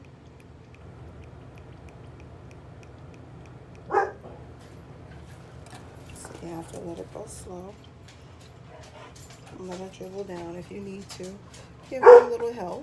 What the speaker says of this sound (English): That's my dog fussing at the UPS man,